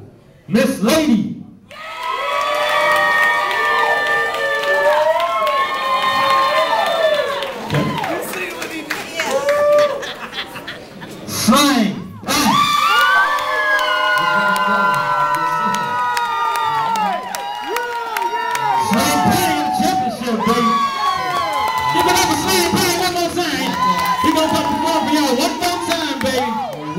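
A crowd at a talent show cheers, whoops and claps in loud, repeated bursts, with high excited shouts and an emcee talking between the waves of noise.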